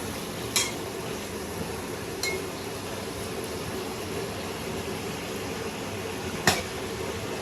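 Fish fat frying in a pan for a home-style Bengali fish-oil dish gives a steady, low sizzle throughout, with a few sharp clinks of a utensil against the pan scattered across it.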